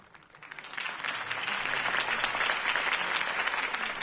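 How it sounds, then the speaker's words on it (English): Steady applause from a large crowd in the video game Batman: The Telltale Series swells within the first second and holds at a full, even level throughout. "If only Mr. Wayne, my campaign's largest backer, could have heard that applause"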